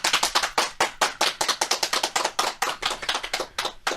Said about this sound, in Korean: 박수로 시작할까요?